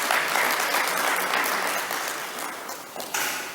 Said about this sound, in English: a hearty clap for Aurelia